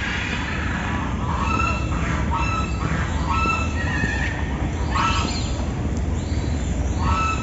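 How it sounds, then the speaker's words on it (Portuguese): Geese and ducks call around an animal park in Campinas, repeated honks and quacks rising over a steady rushing background hiss, some near and some farther off, without talk. "Ganso, patos."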